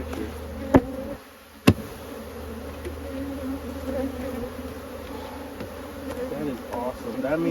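Honeybees buzzing around a nectar-filled comb frame during a hive inspection, a steady close drone with a couple of sharp knocks near the start.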